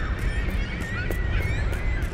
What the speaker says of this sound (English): Again the birds are restless.